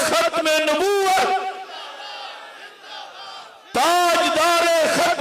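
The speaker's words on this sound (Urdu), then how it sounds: "ہاتھ بلند کر کے ایک نعرے کے ساتھ آپ نے اس بات کی تائید کرنی ہے" A large crowd at a religious rally shouts a slogan in unison in answer to a leader's call, two loud, rhythmic chanted bursts separated by a quieter pause.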